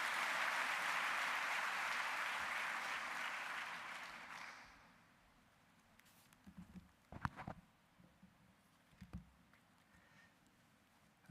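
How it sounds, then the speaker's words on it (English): Audience applause at a university orientation welcome for new Arts, Education and Dentistry students, greeting the Rector and Vice Chancellor in a hall: steady, fairly loud clapping for about four seconds that thins out, followed by sparse shuffles and knocks. "A big round of applause for Prof."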